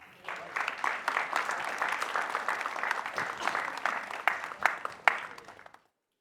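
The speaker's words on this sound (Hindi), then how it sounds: "मैं एक बार आपके नाम पे तालियां बजवाना चाहता हूं।" A hall audience claps in a steady, dense round of applause at a Hindi talk session, holding for several seconds before tapering off into silence.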